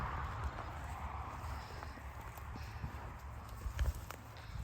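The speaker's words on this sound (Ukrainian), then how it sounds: "І тут багато всяких коней." Hooves clop faintly and unevenly over a low background rumble as horses, including mares, fillies, colts and stallions, walk at a distance at a horse sale.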